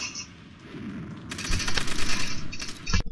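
Rifle fire in the Roblox war game Call of Robloxia: after a low murmuring backdrop, a loud, dense burst of rapid shots rattles in from about a third of the way through, with a final sharp crack near the end.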